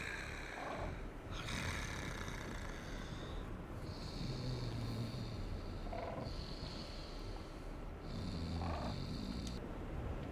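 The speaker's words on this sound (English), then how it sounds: "I think we can hear this guy snoring now." Low, slow snoring from a character in the video game Dark Souls, with rhythmic rasping breaths repeating every couple of seconds under a steady, noisy in-game ambience.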